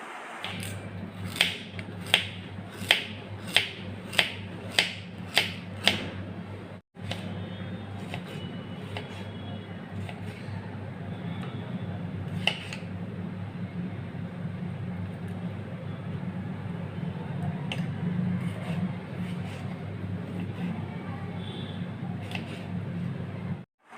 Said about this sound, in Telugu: వీటిని అయితే మంచిగా శుభ్రంగా కడిగి ముక్కలుగా కట్ చేసుకోవాలండి